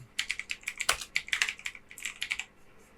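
Someone types a firm's name on a computer keyboard: a quick run of crisp, close key clicks in an uneven rhythm that trails off near the end, with no talking.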